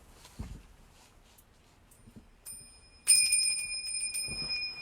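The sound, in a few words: bell ringing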